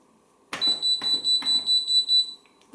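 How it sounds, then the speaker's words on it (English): Washing machine control panel emitting a loud series of about nine evenly spaced electronic beeps in quick rhythm, close by, with a clatter at the start and no talking. "Oh, beep is loud."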